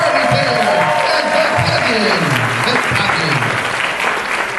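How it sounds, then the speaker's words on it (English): Loud audience applause fills a costume contest at a Doctor Who fan convention, dense steady clapping with cheering mixed in, close and continuous throughout, with a voice faintly talking underneath. "Ladies and gentlemen, big round of applause for McCartney Taylor and"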